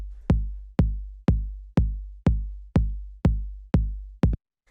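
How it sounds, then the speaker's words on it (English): A punchy 808-style kick drum from a 122 BPM minimal house loop thumps nine times at an even, steady pace, each hit booming and decaying quickly, alone and loud. "First sound I have here is the kick, which sounds like this."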